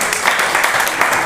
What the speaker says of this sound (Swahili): Tumpigie makofi jamani.